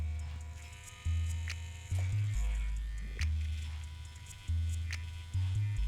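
Electric hair trimmer buzzing close by during a wave cut and light taper haircut, a low steady hum that pulses in repeated surges as the clippers move, fairly faint overall.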